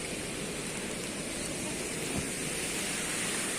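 A forest waterfall pours in a steady, broad hiss of falling water, soft and unbroken for the whole stretch, with no voices.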